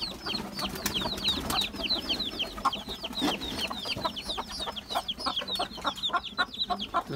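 An Aseel hen clucks repeatedly to call her chicks to food, a steady run of soft clucks mixed with higher chirps from the chicks, close by and continuous on a farm.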